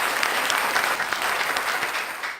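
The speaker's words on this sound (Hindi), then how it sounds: "जोरदार तालियों के" A kavi sammelan poetry audience breaks into loud, dense applause that holds steady for a couple of seconds and then cuts off abruptly.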